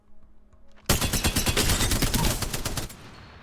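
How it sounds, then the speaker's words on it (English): Spitfire light machine gun from Apex Legends fires a sustained automatic burst of roughly two seconds, loud and rapid with evenly spaced shots, then cuts off, with no talk over it. "Nice light machine gun."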